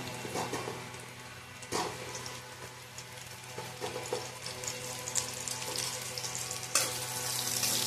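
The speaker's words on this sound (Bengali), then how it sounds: "তেলটা গরম হয়ে গেছে, এবার এর মধ্যে কিউব করে রাখা পেঁয়াজগুলো দিয়ে দিলাম" Cubed onions dropped into hot oil in a home kitchen while making chili chicken give a steady crackling sizzle throughout, with a few louder spits and clatters of stirring.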